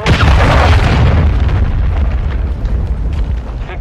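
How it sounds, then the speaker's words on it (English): A cruise missile explosion in Modern Warfare 2, a loud close boom with a heavy low rumble that slowly fades under scattered debris and crackle. "cruise missile incoming."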